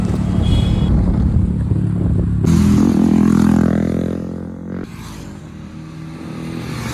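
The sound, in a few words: KTM Duke 200 motorcycle riding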